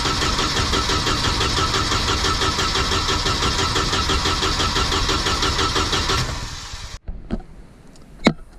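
A Volvo Penta AQ151c boat engine, unstarted for over ten years, cranks with a rapid rhythmic starter churn for about six seconds, then slows and stops, leaving quiet with a few small knocks, close up.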